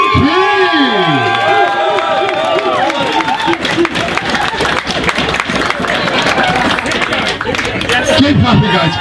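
Wedding guests clap and cheer loudly for the best man, a dense, continuous burst of applause with whoops and shouts, close and lively, with voices calling out over it.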